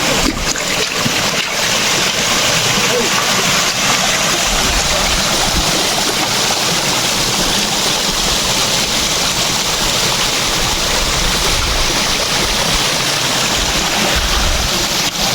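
Loud, continuous rush of flowing stream water at a water source, a dense steady splashing roar close by with no talking.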